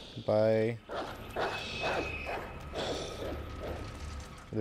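A dog gives one loud, sharp bark in the Resident Evil 2 video game, followed by muffled, shuffling game noises and rumbling ambience that carry on underneath.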